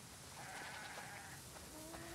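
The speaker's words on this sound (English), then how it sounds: "Wow, that's a lot of sheep." A large flock of sheep bleats in The Last of Us Part II, overlapping calls rising over a dense, steady background wash of ambient noise, fairly faint and without talk.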